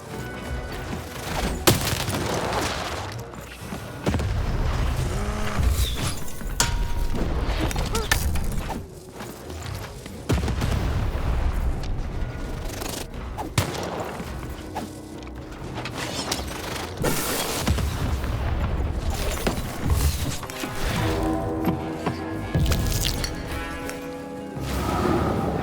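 Cannon fire in the video game Lost in Random, heavy booms and blasts mixed with clanking, ratcheting machinery and dense game effects, loud and continuous with brief lulls, no speech.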